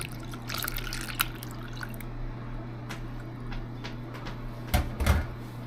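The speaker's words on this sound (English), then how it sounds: "And then I'm going to add 2 cups of milk." Milk, two cups of it, poured into eggs freshly whisked with a fork for old-fashioned bread pudding, giving a soft, steady liquid trickle and splash close by, with a couple of small sloshes near the end and no talking.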